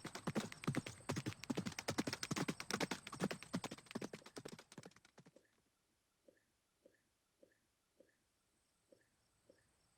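Hooves of a centaur carrying a rider clip-clop in a quick, steady gallop-like patter, then slow to a handful of spaced, softer steps; no talk.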